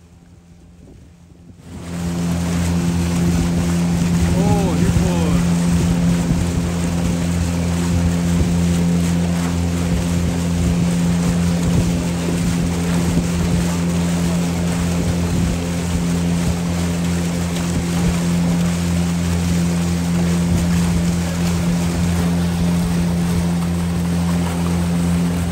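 Motorboat on the river at Chobe National Park, its engine a steady loud drone that starts abruptly after a quiet moment and holds close and constant, with water noise underneath.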